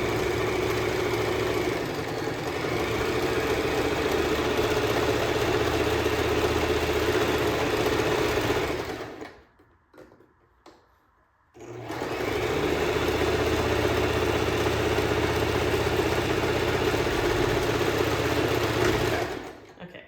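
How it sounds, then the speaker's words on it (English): Sewing machine stitching pillowcase fabric, a loud steady whirring drone that runs for several seconds, cuts out into a brief quiet pause, then starts up again and keeps going. "close the foot down on the machine, and then go ahead and start sewing that stuff"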